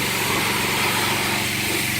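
A pressure washer cleaning the engine bay of a Honda S2000 gives a steady, loud motor drone with broad spray hiss, unbroken throughout.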